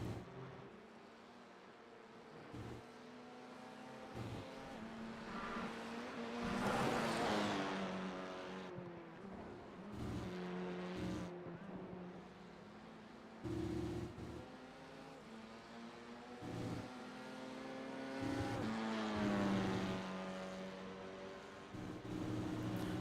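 Open-wheel race car engines in a sim racing game at Oran Park GP, a steady buzzing drone with harmonic whine rising and falling through gear changes, cars passing close at times, loud and continuous with no talk.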